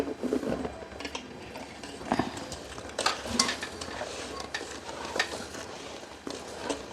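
A spoon stirs sugar into water in a bowl while flour dough is prepared, giving scraping, clinking strokes in an irregular rhythm that repeat through the clip at close range.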